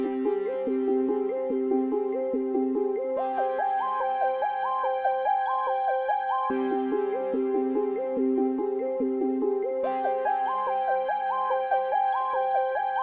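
Dark wavy beat melody plays all together: a repeating, siren-like synth figure rises and falls in a steady loop over sustained pads, restarting in cycles every few seconds, continuous and moderately loud with no speech.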